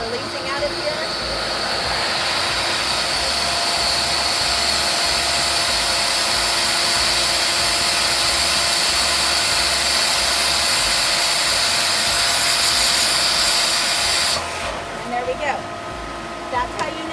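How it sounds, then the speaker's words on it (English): A pool pump being primed on an Aquascape pool releases air from its housing as a loud, steady, close rushing hiss that holds for about fifteen seconds before abruptly thinning to a softer whoosh. "You can hear all that air releasing out of here."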